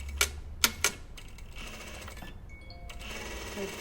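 A sewing machine stitching a puff sleeve on a blouse gives a few sharp mechanical thumps, then a steady whirring hum that runs close and alone, with a brief pause near the end.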